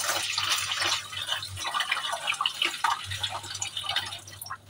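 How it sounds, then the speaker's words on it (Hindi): Rice is washed by hand in water, with close sloshing, dripping and trickling pours, rising and falling in uneven splashy bursts. "तो चलिए राइस को अच्छे से वॉश कर लिए।"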